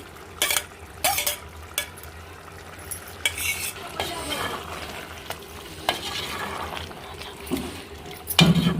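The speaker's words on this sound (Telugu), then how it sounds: "ఇప్పుడు లాస్ట్లో నేను కొత్తిమీర కరివేపాకు వేసుకుంటున్నాను" A spoon stirs chicken and brinjal curry in a pan as coriander and curry leaves go in, with sharp scraping clicks at irregular intervals over a soft, continuous sizzle.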